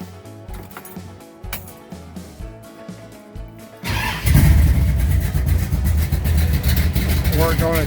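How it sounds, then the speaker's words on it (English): A 1969 Dodge Charger hot rod's engine cold-starts after a short crank, catching into a loud, rough, lumpy idle with a recently fixed exhaust leak, a person talking just before it fires. "That's its cold start."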